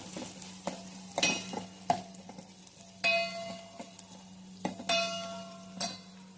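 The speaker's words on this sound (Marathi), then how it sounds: "आता यामध्ये आपण सोडूयात थोडीशी हळद, गरम मसाला आणि छान मिक्स करून घेऊयात।" A spatula stirs turmeric and garam masala into fried chilli masala in a pan, giving intermittent scraping clinks and taps over a low, steady sizzle.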